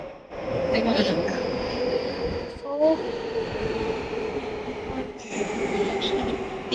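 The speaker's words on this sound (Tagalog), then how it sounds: "Sa platform. Arriving na ang train." A train rolls into a Tokyo station platform with a steady rumble, a few faint squeals and tonal whines, and a brief pause in the middle, with people talking under the noise.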